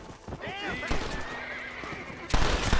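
A game horse whinnies with a rising, wavering call, followed by clip-clop hoofbeats, while a voice talks over the scene and a louder burst of game noise arrives near the end.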